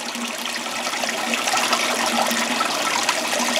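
A small backyard waterfall splashes heavily onto rock and rubber liner, giving a close, continuous hissing splash and trickle at a steady, fairly loud level with no voices.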